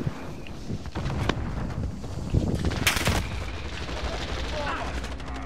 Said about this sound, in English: The guy on top is shooting me.